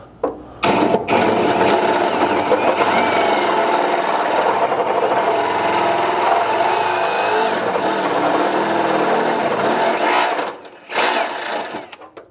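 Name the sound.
drill finishing a hole with a 17/32 bit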